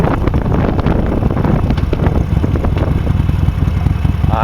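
A 2013 Harley-Davidson Sportster 72 XL 1200 V with a custom air cleaner, its engine droning loudly and steadily under heavy buffeting wind noise on the microphone while riding.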